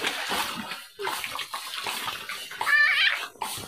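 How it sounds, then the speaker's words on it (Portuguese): Swimming pool filling with water, a continuous gushing splash with sloshing bursts, close and fairly loud. "Tá enchendo de água, já vai ficar fundo aí pra você, Daia, quase."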